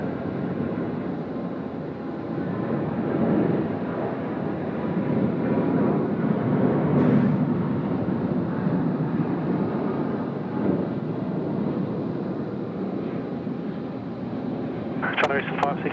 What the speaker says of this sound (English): China Eastern A350, the most colourful A350 that we've got